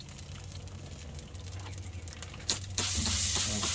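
Spray bottle spritzing a smoked pork butt on an OKJ Longhorn reverse-flow smoker at about 225 degrees: a sharp hissing spray burst followed by a sustained close hiss over low background hum.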